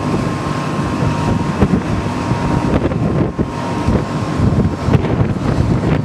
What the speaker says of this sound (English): Gusty turbulent flow.